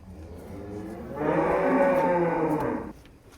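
A sacrificial cow at a farm lets out one long, loud, close moo lasting under two seconds, with quieter farm background before and after and no talk.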